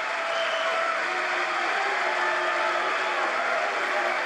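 Members of the US Congress give Netanyahu a standing ovation at the end of his speech, dense sustained clapping from a large crowd filling the hall evenly without a break.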